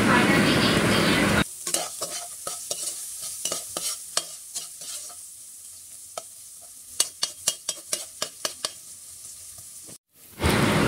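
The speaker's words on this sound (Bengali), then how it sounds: "এখন তেল গরম হওয়াতে আমি এখানে দিয়ে দিলাম পেঁয়াজ মরিচ লবণ আর অল্প একটু হলুদ দিয়ে দিব। এরপর এটাকে ভালোভাবে ভেজে নিব।" Onion, green chili and salt fry in hot oil, with a touch of turmeric. A loud sizzle opens the clip, then a quieter fry carries sharp clicks of stirring in the pan, and a brief burst of sizzling returns at the end.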